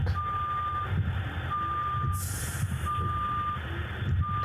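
Repeating reversing beeps from a bus parking in the video game Night Bus, four evenly spaced tones over a steady engine rumble, with a brief hiss of air partway through.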